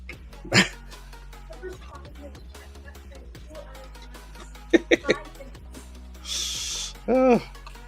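A puppy barks in a couple of short, sharp bursts, one near the start and a louder yelping bark near the end, with household noise and faint voices around it.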